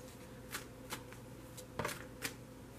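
A deck of tarot cards is shuffled by hand: soft riffling bursts and a few crisp snaps spaced irregularly, close and quiet, with no voices.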